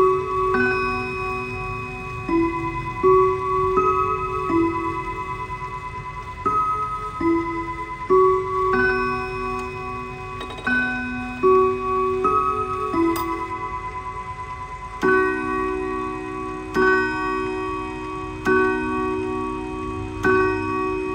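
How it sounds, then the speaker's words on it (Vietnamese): A Howard Miller wall clock plays the Westminster chime, with clear ringing melodic bell tones in repeating four-note phrases over a steady ticking, close and fairly loud with no talk. "Rồi anh em mình nghe bản Westminster nha."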